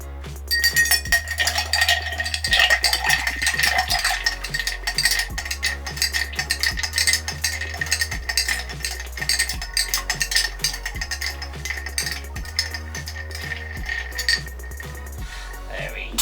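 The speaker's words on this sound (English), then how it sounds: "The ice added, now we're just going to stir." Ice clinks and rattles steadily against a glass as a reverse martini is stirred, a close, rhythmic jingling that continues throughout with a low repeating tone underneath.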